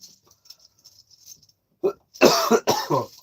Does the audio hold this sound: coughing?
yes